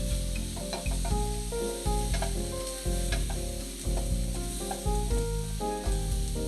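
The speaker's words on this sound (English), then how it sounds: "in go your mushrooms" Mushrooms sizzle and crackle steadily in a hot frying pan while being stirred, with a utensil scraping and knocking rhythmically against the pan, loud and close with no talking.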